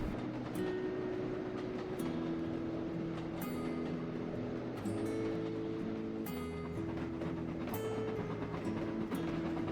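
A large steam locomotive hauls a heavy goods train along a branch line, a steady rolling rumble with rhythmic clanking of wagons and sustained mechanical tones, moderately loud and continuous without talk.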